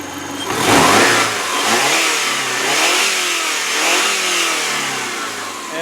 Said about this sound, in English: let's rev her up for you so you can hear